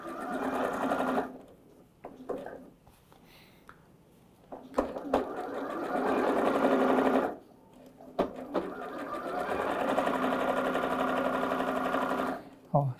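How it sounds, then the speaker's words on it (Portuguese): Sewing machine stitching a satin bonnet, running in steady bursts with a pause around two to four seconds and a brief stop near seven, a voice talking over parts of it. "E vem costurando, ó."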